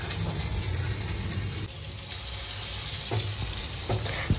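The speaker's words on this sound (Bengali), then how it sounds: "দেন ওটাকে এরকম একটু বাটার দিয়ে ফ্রাই করে নেয়।" Chicken kebab fries in butter with a steady close hiss and crackle, a low background rumble beneath, and a couple of soft clinks near the end.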